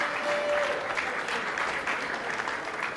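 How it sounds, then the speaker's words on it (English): Applause from an audience at a cigar competition's grand final in Split, Croatia, a dense, steady clatter of many hands clapping for the full stretch without a break. "Mr. Anthony, please, big applause for him."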